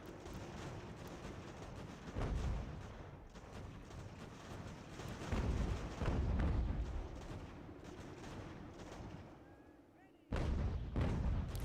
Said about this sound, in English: that artillery is doing pretty good work out here on this flank company of enemy troops